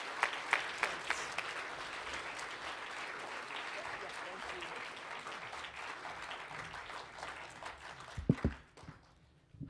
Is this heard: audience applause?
yes